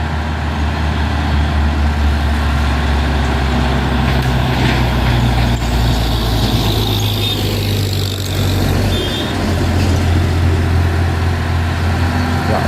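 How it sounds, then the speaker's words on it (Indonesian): A Mitsubishi Fuso intercooler truck grinds uphill on Bukit Kodok, its engine a loud, close, unbroken drone that dips briefly and then resumes with a hint of air-brake hiss. "Fuso intercooler."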